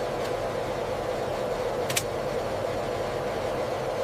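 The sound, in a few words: F-35 fighter jet engine at maximum thrust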